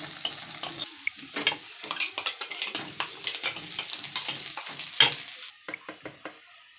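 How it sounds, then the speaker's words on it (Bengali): Onions frying in a pan while being stirred, with lively sizzling and frequent scraping, clinking stirs against the pan, close and fairly loud, with no speech. "এখন পেঁয়াজটা আমি লাল লাল করে ভেজে নেব।"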